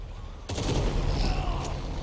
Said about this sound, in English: Okay, I shot him again.